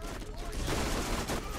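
Dense gunfire and explosions in the video game Borderlands, a continuous loud wash of rapid shots and blasts with no gaps, mixed with a voice.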